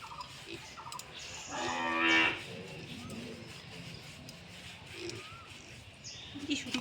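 A cow gives one loud, close moo lasting about a second while being bathed with shampoo, followed by quieter farmyard sounds and faint birds.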